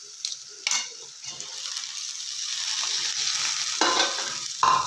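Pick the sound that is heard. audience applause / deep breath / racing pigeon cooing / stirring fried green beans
stirring fried green beans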